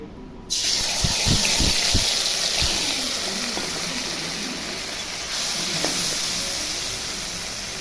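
Prawns dropped into hot oil, a loud sudden hiss that jumps up and then settles into a steady, slowly fading sizzle, with a few low knocks early on and no talking.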